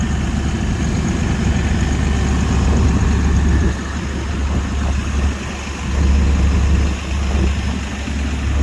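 A truck engine idles nearby with a deep, loud rumble that swells and dips a few times, steady and alone without voices.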